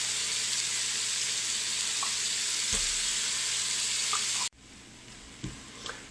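Vegetables and tomato paste sizzle in an Instant Pot, a dense steady hiss that cuts off abruptly into a quieter simmer with a few soft clicks.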